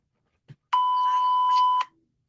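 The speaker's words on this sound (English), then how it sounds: "obviously the beeps, I had to beep out as much personal information as I could" A single clean electronic censor beep, a steady pure tone lasting about a second, follows a brief faint thump and stands alone against silence.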